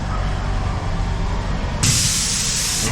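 A machine at a sushi restaurant in Bangkok gives off a steady hiss, and a louder, brighter burst of spray comes on near the end, close by and with no speech.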